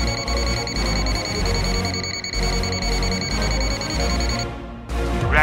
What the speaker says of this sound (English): NCV non-contact induction, buzzer sound when voltage is sensed.